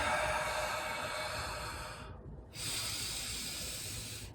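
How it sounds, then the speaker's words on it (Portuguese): A person breathes out noisily through the mouth, making a long airy hiss that breaks off for a moment and then starts again, close and quiet. "e solta o ar pela boca, fazendo um barulho, ó."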